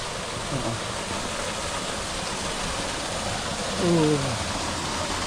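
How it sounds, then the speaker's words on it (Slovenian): A fairytale waterfall on the island of Evia pours steadily into a small deep pool, a constant broadband rush filling the scene, with brief voices rising over it near the end. "To je pa pravlični slap"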